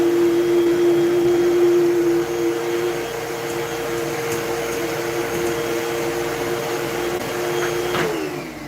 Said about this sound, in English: I'm just going to quickly vacuum off